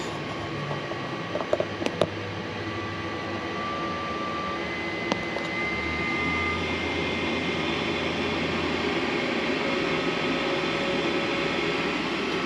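An Eberspacher Airtronic M3 D4L diesel heater installed in a Hewescraft 210 boat spools up as a steady, droning whir with a low hum and a few faint clicks near the start.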